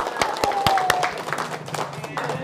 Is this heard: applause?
yes